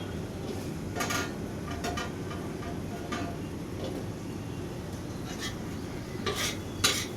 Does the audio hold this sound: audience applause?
no